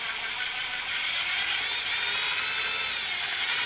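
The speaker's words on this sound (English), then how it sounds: "just use your drill, and what it'll do is it'll just wind itself in" A power drill steadily winds a bit into an RC crawler winch mount on a Traxxas TRX-4, its high, continuous whine running loud and close throughout without a break.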